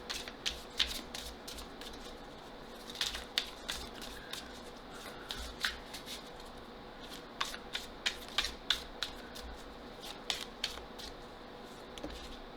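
Tarot cards shuffled by hand for a reading, a steady run of crisp riffling flicks and soft slaps repeating every second or so, close and fairly quiet with no voice over it.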